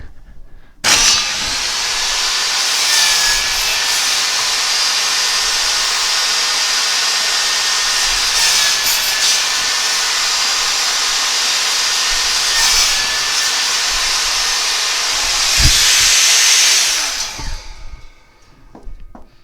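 Table saw with a crosscut sled slicing through wood against a stop block, a loud, steady whining cut lasting most of the clip, starting abruptly and winding down near the end, with no talk.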